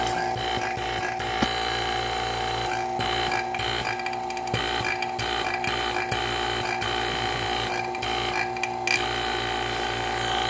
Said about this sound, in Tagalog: Ito vacuum para sa aircon ng mga kotse.